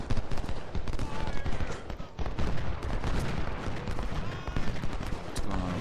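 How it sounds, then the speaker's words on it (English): Cannon and rifle volleys from a Civil War battle in Ultimate General: Civil War at Chickamauga, a dense, continuous rumble of overlapping booms and crackling shots with no clear gaps, steady and moderately loud throughout. "Sorry, more artillery coming."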